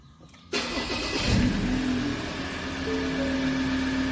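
A Ford Everest engine cranks via push-button start and catches, revving briefly before settling into a steady idle, close and loud.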